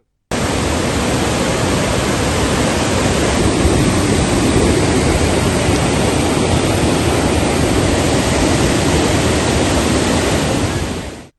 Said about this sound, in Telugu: నిన్నటి వరకు ఎండిపోయి కళావిహీనంగా ఉన్న ప్రాంతమంతా జల సవడులతో సందడి చేస్తోంది